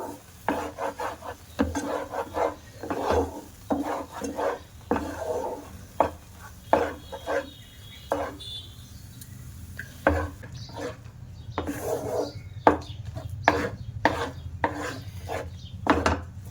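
Semolina cooks in a pan over low heat while a utensil stirs it steadily, giving close, repeated scraping and rubbing strokes in a loose rhythm at moderate loudness, with no talking.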